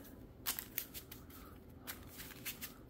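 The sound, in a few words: shuffling a deck of cards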